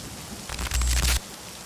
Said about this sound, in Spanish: La lluvia golpeaba el tejado de los Henderson como si quisiera abrirse paso dentro